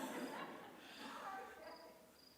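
A cricket chirps faintly indoors during a Shabbat service. Its thin, high trills come in brief bursts toward the end, under low murmuring room noise.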